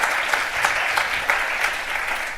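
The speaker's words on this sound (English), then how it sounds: "You can have a little clap, actually, I think." Audience clapping at a panel event, a steady even patter of many hands, moderately loud and continuous throughout with no talk over it.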